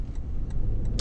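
Road traffic flows past at around 1:30 in the morning, a steady loud rumble of cars with a few faint clicks on top.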